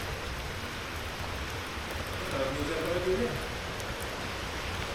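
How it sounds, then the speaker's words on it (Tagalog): Steady rain hisses across the whole stretch, a dense broadband wash with a brief faint rise midway. "Lumakas ang ulan talaga guys."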